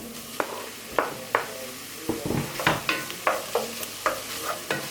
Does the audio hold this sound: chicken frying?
yes